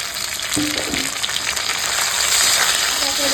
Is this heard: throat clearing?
no